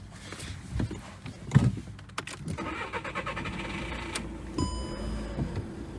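A high-mileage Seat Ibiza's engine cranks over with a few clicks and a rough starter whir, then catches and settles into a steady, quiet idle.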